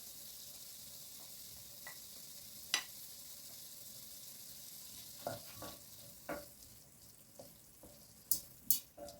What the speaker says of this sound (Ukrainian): Тушкую приблизно 7-8 хвилин на середньому вогні.